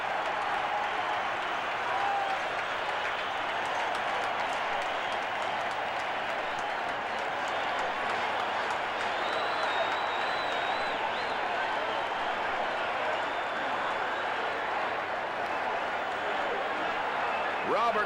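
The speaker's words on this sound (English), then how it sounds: "This crowd is going crazy." Stadium crowd at a 1979 American football game, Saints versus Giants in New Orleans, roaring and cheering in a dense sustained wash, with a commentator's voice heard faintly over it.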